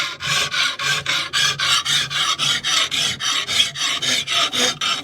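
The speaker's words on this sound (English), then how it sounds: "I'm just going to file in what's going to become that cutting edge" A hand file rasps steel, cutting the edge bevel of a knife clamped to a wooden block; about twenty even back-and-forth strokes in a steady rhythm, close and clear with no voices.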